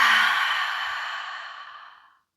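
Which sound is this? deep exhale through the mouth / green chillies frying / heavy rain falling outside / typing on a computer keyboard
deep exhale through the mouth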